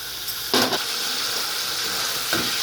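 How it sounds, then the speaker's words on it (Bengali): A spice paste with chili and turmeric powder sautés for a tangra fish and potato curry, giving a steady close hiss and sizzle with two brief louder bursts as the pan is stirred. "এরপর দেব একটু লঙ্কার গুঁড়ো আর দেব হলুদ গুঁড়ো এখন এটাকে আবার কষাবো"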